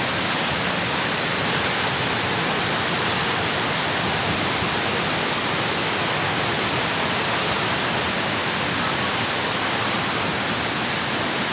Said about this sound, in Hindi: देखो वेग कितना है सरस्वती नदी का